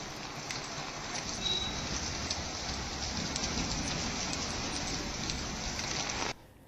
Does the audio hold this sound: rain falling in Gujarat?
yes